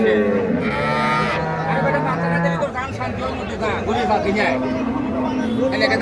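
Cattle moo loudly at a crowded cow market, long drawn-out bellows over the constant chatter of traders and buyers, with one voice talking close by.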